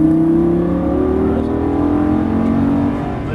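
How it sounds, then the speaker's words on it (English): A Lamborghini Gallardo LP550-2 engine pulls hard under full throttle, a loud, close, steadily rising roar with clear climbing engine tones and no gear-change break. "back on the throttle, hard on the throttle"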